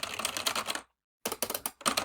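Typing on a computer keyboard, rapid clustered key clicks in two bursts separated by a brief pause, close and clear with no talk.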